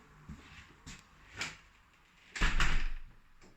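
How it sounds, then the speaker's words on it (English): A front door in a brand-new house in Luton is swung shut, with a few light knocks and rustles before a loud, close thud and rattle of the closing door that fades out. "So I'll just close that front door."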